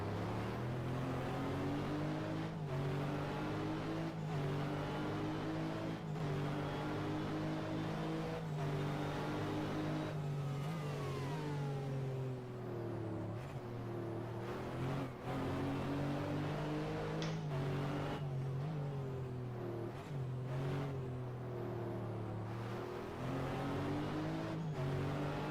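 Race car engine from a 2000 FIA GT race at Zolder in a racing game, a steady loud drone with rising and falling pitch as the driver shifts through gear changes, continuous throughout with no talking.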